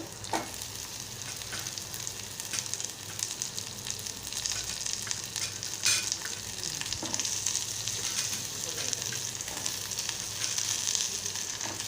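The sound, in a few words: red pumpkin being stir-fried with onion and chili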